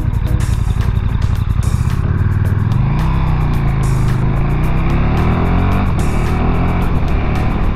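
A KTM 1290 Super Duke R motorcycle with an SC Project exhaust and the dB killer removed rumbles loud and close, its deep idle rising into a rev and settling back.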